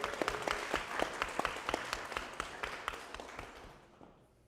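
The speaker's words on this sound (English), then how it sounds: "please, a round of applause for these 5 teams" Applause from an audience at an onsite hackathon finals honouring the top five teams, dense clapping with sharp individual claps standing out, steady for several seconds and then thinning and fading toward the end.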